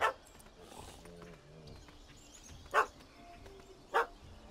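A puppy barks at a cat that has fled up a tree outdoors, giving a few sharp, spaced barks heard at a moderate distance, with quiet background sound between them and a brief voice early on.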